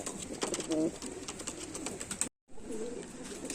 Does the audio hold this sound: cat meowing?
no